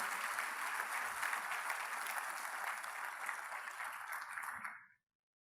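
Church congregation applause offered to the Lord during a service, a steady wash of many hands clapping that continues evenly for several seconds and then cuts off abruptly.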